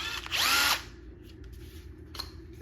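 A Bosch 12V cordless driver whirs in one short burst, revving up and winding down, followed by quiet room tone and a faint click at the end.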